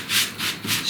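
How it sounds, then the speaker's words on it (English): Short bursts of dry rubbing, a small block scraping back and forth across a surface in about three quick close strokes. "That's a little mini sanding block I just made."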